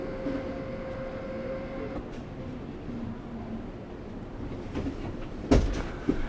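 An electric motor raises the bed in a 2021 Rapido M96 motorhome built on a Mercedes-Benz Sprinter, a steady low whirring hum that runs and then stops, followed by a few sharp clunks and knocks near the end.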